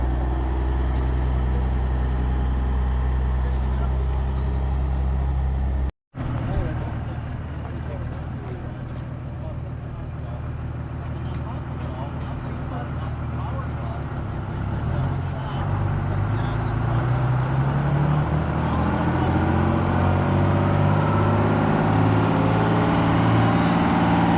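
A big truck's diesel engine idles with a low steady rumble at a truck show, then the engine note rises and grows louder near the end. A brief dropout breaks the sound early on, and people talk in the background.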